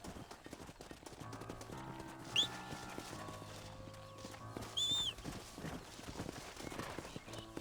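Horse hooves clip-clop in the Red Dead Redemption video game on PS5, a steady walking rhythm of soft hoof falls under a music bed, with a brief whinny or bird call and faint voices.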